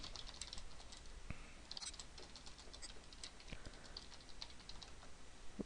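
Password being typed on a computer keyboard during network setup: quick, light key clicks in an irregular patter, fairly close and soft over a faint steady background hum.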